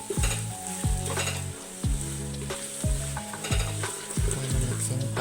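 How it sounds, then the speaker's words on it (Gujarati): Tuver totha sizzling as a ladle stirs it, strong frying hiss punctuated by a series of ringing metallic clanks of the ladle against the pot, close and loud, no one speaking. "આપણે કણચીથી હલાવી દીધું."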